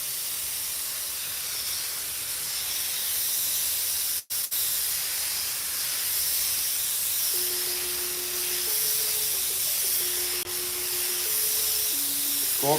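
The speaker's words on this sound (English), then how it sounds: "it's going to double up what I've already sprayed here to where it's going to be 2 coats" Spray gun laying a candy paint coat over metal flake, giving a continuous broad hiss of atomized paint that stays steady and close, with a brief dropout partway and a faint tonal hum later on.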